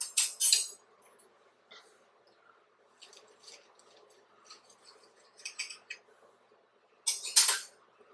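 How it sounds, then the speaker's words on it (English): Cutlery scrapes and clicks against a plate while a SPAM pancake dog with pumpkin spice batter is cut, several short bright bursts with quieter scraping between, close and without talk. "I'm going to cut one of these dudes and see how they taste"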